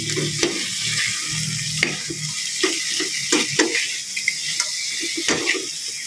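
A spoon stirs sinigang in a pot on the stove, with scraping and bumping strokes at an irregular rhythm over a steady simmering hiss, close and fairly loud.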